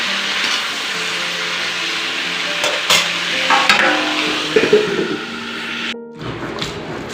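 Food gets stirred in a cooking pot seasoned with salt, turmeric and sugar, a steady sizzle under scraping strokes and clanks of a spoon against the pot, followed by a brief thud near the end as it is covered.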